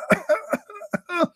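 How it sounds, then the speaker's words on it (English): A woman coughs in a loud, close burst of five or six harsh coughs with brief gaps between them, ending in a longer raspy, throaty cough. "The wife, she started coughing."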